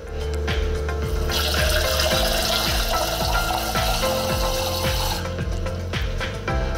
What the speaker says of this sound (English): step three is to fill it up with water